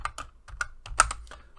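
Quick, close clicks of computer keyboard keys as code is typed, a short irregular run of distinct keystrokes with one firmer tap in the middle.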